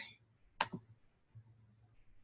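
Mouse double click on a computer while working in VisSim software: two quick, crisp clicks close together in a quiet room, with faint low background hum.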